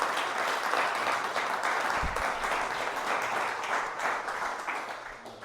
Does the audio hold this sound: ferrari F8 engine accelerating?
no